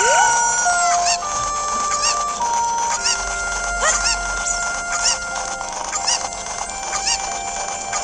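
Chickens in Zelda: Ocarina of Time 3DS cluck and squawk repeatedly over a constant background hum, with a few honking calls mixed in.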